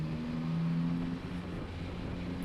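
2021 Yamaha Tracer 9 GT motorcycle accelerating to overtake on a country road, a steady engine drone that rises briefly in pitch under rushing wind noise, no talking.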